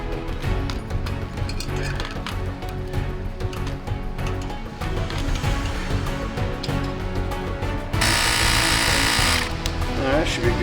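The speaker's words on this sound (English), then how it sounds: "I don't want to overheat the little mini air compressor here." A small mini air compressor hums and buzzes steadily as it inflates a bicycle inner tube, loud and close. A harsher, brighter burst of air hiss rises near the end, and no one talks.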